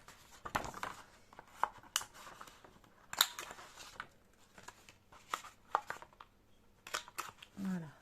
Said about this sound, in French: je vais prendre ma petite perfo et je vais arrondir